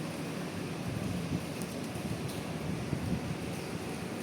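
Strong gusty typhoon wind in Hong Kong during a signal 9 storm, a continuous broadband roar with rumbling buffets against the microphone, steady and fairly close, no talking.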